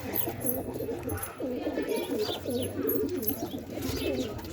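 Pigeons coo inside a loft, repeated soft throaty calls overlapping in a close, continuous chorus with faint background murmur.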